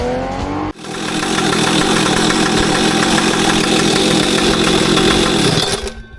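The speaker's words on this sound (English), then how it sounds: "Rev up your engine!" A loud engine roars up to a high, sustained rev, holds steady for several seconds, then drops off abruptly.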